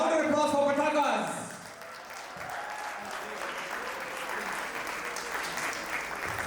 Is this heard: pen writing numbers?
no